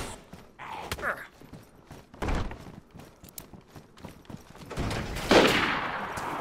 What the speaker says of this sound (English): Yep, I just got shot at.